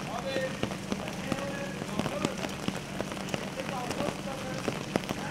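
Heavy downpour in Van, Turkey, pounding hard and steady on surfaces, a dense, continuous hiss of rain with sharp drop impacts scattered throughout.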